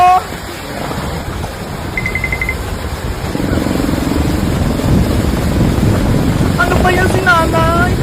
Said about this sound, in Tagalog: Lumalakas pa yung hangin.